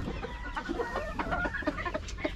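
Chickens cluck busily close by in their coop, a dense stream of overlapping short clucks and calls throughout.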